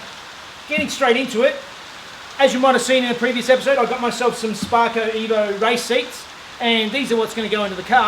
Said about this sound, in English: sorry about the rain noise on the roof